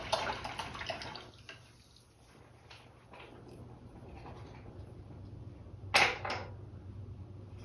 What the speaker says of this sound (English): Wash my brush out